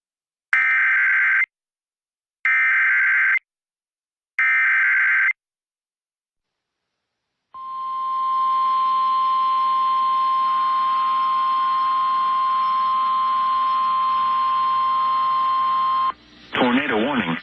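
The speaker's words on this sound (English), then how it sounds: "Let's take that EAS report here on WDBO right now." EAS emergency alert broadcast on WDBO radio: three loud two-tone attention bursts with short gaps, then a long steady alert tone, ending in a brief burst of data-like noise.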